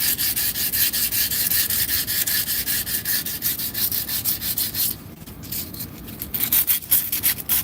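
Steady, rapid back-and-forth abrasive rubbing as a damaged seal surface on a mechanical part is sanded smooth, close and loud, easing briefly near the end before resuming.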